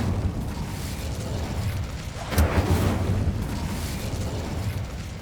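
A fire spell cast in Hogwarts Legacy erupts in a sudden whooshing burst of flame that rises out of a low, steady rumble, swells for a couple of seconds and then dies back into the ambient background.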